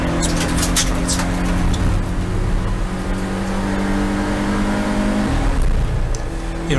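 Race car engine at Donington, a 750 Motor Club 116 Trophy car on a flying practice lap, drones loud and close at steady high revs throughout, with a brief dip near the end before picking back up.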